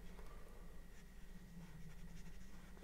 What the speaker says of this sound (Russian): Вот я рисую э, круг бледным маркером и заливаю его